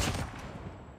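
A gunshot from the mobile shooter Call of Duty Mobile, one sharp burst at the start decaying into a rumbling tail, fairly quiet and without speech.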